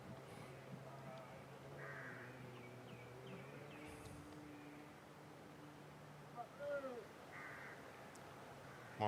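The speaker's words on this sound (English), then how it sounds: "For now, I can even hear birds singing again." Birds call and sing at a motor racing circuit during a quiet spell between race sessions, with crow-like caws and scattered chirps carrying faintly over a soft background hum.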